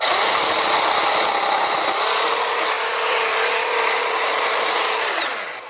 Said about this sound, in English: So let me take a cut with the Black & Decker.